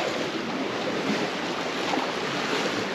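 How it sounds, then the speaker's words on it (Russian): Sea waves washing around a sanatorium pier on the Black Sea coast in winter, a steady close hiss and wash of surf mixed with wind buffeting the microphone, no voices. "Однозначно на берегу моря"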